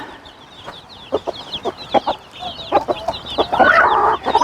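Four broody hens clucking near a dust-bathing spot with chicks about, a series of short close clucks and murmurs that build into a busier, louder cackle toward the end.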